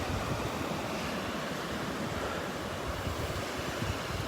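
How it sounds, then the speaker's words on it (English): Ocean waves wash onto the beach at Delnor-Wiggins in a continuous, fairly loud broadband roar mixed with wind rumble on the microphone, with no voices. "But as those waves come in"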